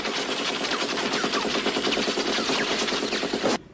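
Rapid automatic gunfire fired from a vehicle, a dense, continuous burst of shots lasting several seconds with no voices, cutting off abruptly at the end.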